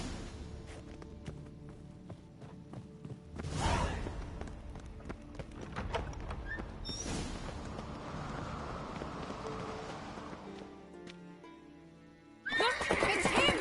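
A horse whinnies loudly twice amid hoofbeats and background noise in The Witcher 3 video game, with another sharp whinny bursting in at the end.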